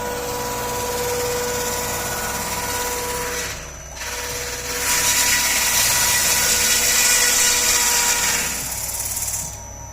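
A Kozak stone-cutting machine's milling cutter grinds through stone with a loud, steady whine and buzz that briefly drops out, then returns stronger as the cutter bites, running continuously and alone.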